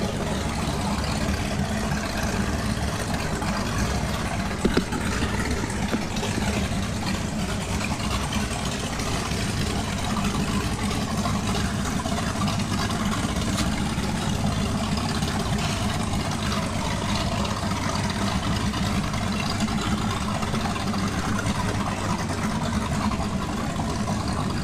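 A very long, large engine runs at a steady idle, a continuous low rumbling drone that holds unchanged from start to finish with no talking.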